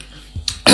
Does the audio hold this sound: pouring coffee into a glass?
no